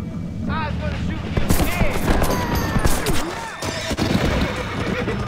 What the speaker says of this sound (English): I started shooting way too late